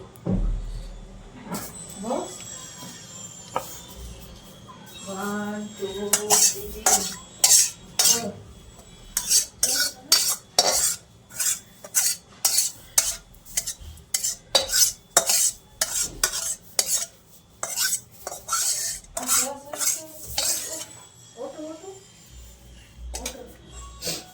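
A spatula scrapes homemade Bengali pabda fish curry out of a pan onto a plate, with close, repeated metallic scrapes and clinks in a steady rapid rhythm, and a voice speaking briefly partway through.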